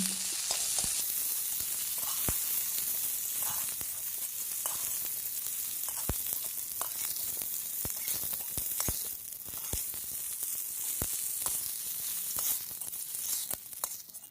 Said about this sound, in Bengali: ফুলকপিগুলো ভেজে নেওয়া হয়ে গেছে এখন আমি এই ফুলকপিগুলোকে তুলে নিচ্ছি